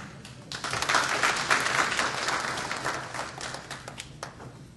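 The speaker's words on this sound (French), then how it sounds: "Il faut qu'on se mette les mains dans les mains pour s'applaudir." An audience at an investiture event in Washington DC applauds, a dense, even wash of many hands clapping that swells and then slowly thins out.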